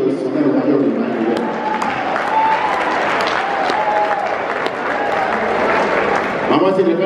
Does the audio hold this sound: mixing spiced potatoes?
no